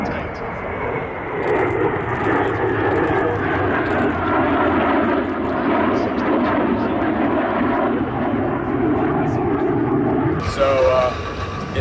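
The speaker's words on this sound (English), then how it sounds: "The Alpha Jet's tucked in nice and tight." An Alpha Jet flies at the Oshkosh airshow, a steady loud jet engine roar sustained throughout while someone talks over it.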